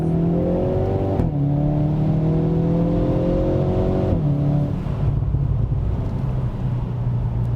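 A 2022 Hyundai Veloster N pulls away from a standstill with its tires spinning on a wet surface, the engine rising in pitch through a quick upshift and then climbing again, loud and close with wind rushing around the microphone.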